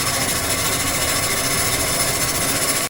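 A seaplane engine in flight over the Maldives roars as a loud, steady drone heard from inside the cabin, constant throughout before cutting off abruptly at the end.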